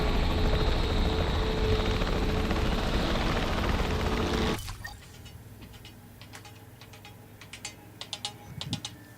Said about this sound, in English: Exit the team helicopter?